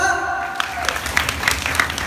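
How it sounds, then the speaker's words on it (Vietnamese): An audience claps in brief applause at a performance, a short stretch of scattered hand claps at moderate level following a fading tone. "bây giờ xin cho Gia Hưng một tràng vỗ tay thật lớn được không ạ?"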